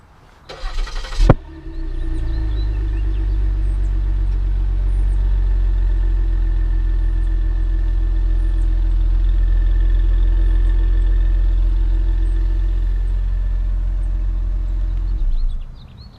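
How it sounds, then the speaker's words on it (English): A 2016 Ford Taurus SHO with the 3.5L EcoBoost twin-turbo V6 is remote-started with a brief loud crank and catch, then settles into a steady, low, even idle that runs for about fourteen seconds before cutting off, recorded close with no talking. "Sounds good from the twin turbo V6."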